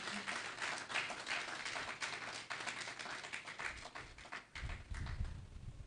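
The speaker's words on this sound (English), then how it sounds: "Can we please give our frontiers, our leaders, a round of applause?" A webinar audience gives a round of applause for finance and sustainability leaders, steady dense clapping throughout with a low rumbling burst near the end.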